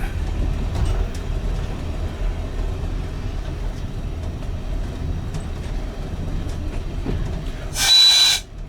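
A steam train on the West Somerset Railway, heard from a diesel multiple unit cab: a steady low rumble of rolling rail traffic with faint clicks, then a brief loud hissing burst near the end.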